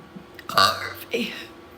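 A girl lets out two burps, a long loud rumbling one followed by a shorter one, close to the microphone with faint breathy sounds around them.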